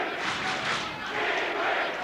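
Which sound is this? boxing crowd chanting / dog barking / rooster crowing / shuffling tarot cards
boxing crowd chanting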